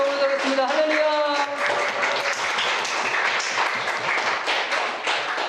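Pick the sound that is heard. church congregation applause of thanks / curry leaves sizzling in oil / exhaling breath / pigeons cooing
church congregation applause of thanks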